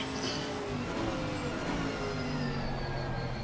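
A Chevy GT4 race car in Assetto Corsa Competizione, heard from the cockpit during a racing lap, holds a steady, loud mid-pitched engine drone with a faint high whine over it throughout.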